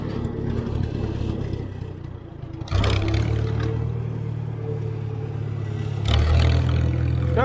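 An IH McCormick Farmall 350 tractor engine runs with a throaty, steady low rumble close by, surging louder around a third of the way in and again near the end.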